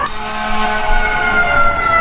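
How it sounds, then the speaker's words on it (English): Emergency vehicle siren and horn in the EmergeNYC video game, a loud wailing tone with sustained blaring layered over engine and traffic noise, steady and close for the whole stretch. "you'll notice the siren and horn usage isn't as wild"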